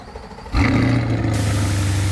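A car engine revs up sharply and then holds a loud, steady, close-up roar, heard alone with no talking.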